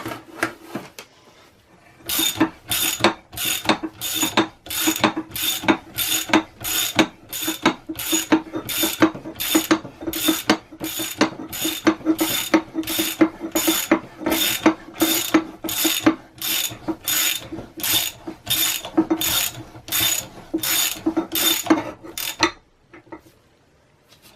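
A puller ratchets on the crankshaft during a Devair 447 engine rebuild to remove a crank bearing, giving a long run of about two dozen evenly spaced, loud metallic ratchet clicks that stop abruptly.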